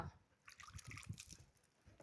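Water splashes and trickles in short uneven bursts, close by, with a soft running sound throughout.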